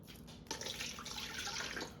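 Warm water pours into a mixing bowl for candy cane dough, a soft splashing stream that starts abruptly and runs on steadily at a moderate level.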